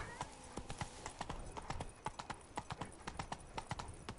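The horse Roach gallops in the video game The Witcher 3: Blood and Wine, a fast, steady run of rhythmic hoofbeats, fairly quiet and close, with no other prominent sounds.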